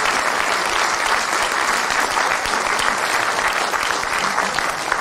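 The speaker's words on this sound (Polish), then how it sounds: "jeszcze raz gorące brawa dla młodych wykonawców" Sustained audience applause for young performers at a Three Kings procession event in Opatów, a dense, steady wash of clapping at even loudness from start to end with no talk over it.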